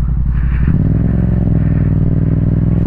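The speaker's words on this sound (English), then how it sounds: "my exhaust is too loud" A loud Yamaha XSR700 motorcycle with an Akrapovic carbon exhaust rumbles steadily up close, a deep throbbing drone that swells slightly as the engine revs, with no one talking.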